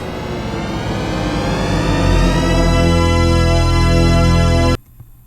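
The THX trailer sound played in mono: a loud, dense harmonic swell with many stacked tones grows and sustains for nearly five seconds, then cuts off abruptly, leaving faint residual noise.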